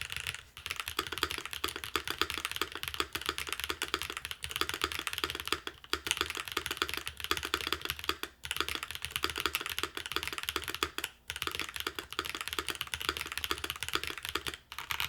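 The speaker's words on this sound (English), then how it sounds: "We're using the strawberry cheesecake switches." Steady fast typing on a Smurve80 retro-style keyboard kit with strawberry cheesecake switches and GMK keycaps, close and crisp, a continuous patter of key clacks with occasional deeper spacebar thumps and no talking.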